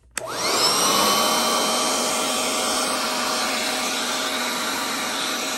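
An Intex electric air pump switches on with a click and runs inflating an air mattress, a loud, steady whooshing motor drone that rises quickly and holds constant throughout, with no talking.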